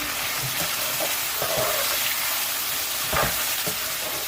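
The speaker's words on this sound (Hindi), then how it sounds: "अब हम इसे मिक्स करेंगे" Karela masala with ginger and garlic sizzles steadily in a pan while a spoon stirs it, with scraping knocks at irregular intervals over a constant frying hiss.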